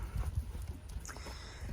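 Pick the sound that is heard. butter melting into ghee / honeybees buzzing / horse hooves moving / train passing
horse hooves moving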